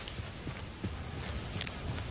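Horse hooves clip-clop in Red Dead Redemption 2, a steady walking rhythm of soft thuds repeating at moderate volume under quiet ambient game sound, with no talking.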